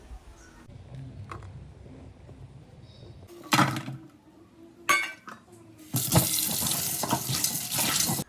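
Tap water running into a kitchen sink while coriander and other ingredients are washed, quiet handling and a few clinks first, then a loud steady gush of water close by.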